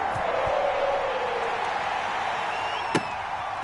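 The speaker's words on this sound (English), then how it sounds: "The enthusiasm of this Cincinnati crowd in full effect a moment ago as their Bengals took the field to the delight of this sold-out crowd" A sold-out Cincinnati stadium crowd in a console football game roars in a broad, steady wash of cheering as the Bengals take the field, with a sharp thump near the end.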